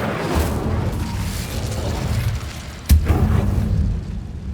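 Incendio fire spell cast in the Hogwarts Legacy video game, a sudden sharp blast bursting out over a steady low rumbling game soundscape, followed by a brief crackling tail.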